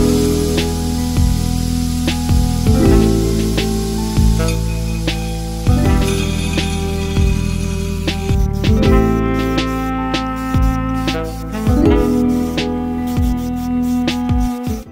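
Forged sushi knife blade being ground, producing a loud, steady abrasive hiss with repeated surges and drops as the steel is pressed and lifted, continuing throughout without talk.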